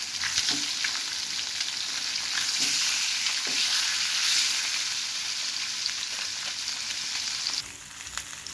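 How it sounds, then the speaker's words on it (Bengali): Rohu fish frying in hot oil gives a steady, dense sizzle with crackling spatters, loud and close throughout, with no talking. "ভালো করে একটু ভাজা হলে আমি উল্টিয়ে দেবো"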